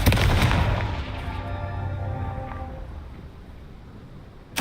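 A Confringo fire spell blast in Hogwarts Legacy, one loud booming explosion that rolls off into a long fading rumble.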